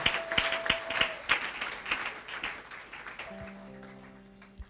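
A church congregation claps and cheers for Jesus in a loud burst of applause that swells at the start and gradually fades, with sustained electronic keyboard tones underneath and no speech.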